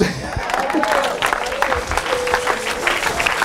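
An audience claps and cheers in a steady wash of applause, fairly loud and continuous throughout, with a faint voice or tone carrying underneath.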